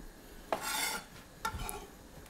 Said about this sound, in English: Give it a nice stir in.